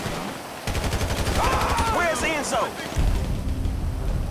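Unsuppressed assault rifle fire in GTA 5, a rapid stream of loud automatic shots that continues throughout, with someone talking over the gunfire.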